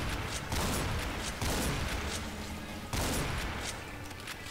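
Shotgun blasts from the first-person shooter Brutal Doom, a loud dense burst of gunfire that repeats roughly every one and a half seconds, each shot followed by a short decaying rumble.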